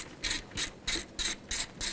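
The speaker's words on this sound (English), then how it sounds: "let's get a 12mm socket and unbolt the fuel rail from the intake" A ratchet with a 12mm socket loosens the fuel rail bolts on a Nissan Titan engine, giving six evenly spaced, crisp clicking strokes close up.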